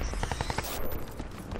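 Rapid bursts of automatic gunfire from a Crysis 2 multiplayer match, a quick string of close, loud shots in the first half followed by a noisy rumbling tail, with no talking.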